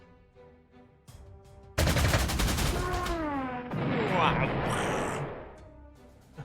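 A big artillery explosion in the WWII strategy game Panzer Corps 2 erupts as a loud, sustained blast with rumbling, crackling debris that fades out, followed by a brief voice exclaiming.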